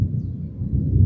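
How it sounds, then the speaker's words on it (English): A low, steady rumble of distant thunder rolls outdoors in San Pablo City, a deep continuous boom with no voices over it. "in the background, you can probably just hear there's thunder."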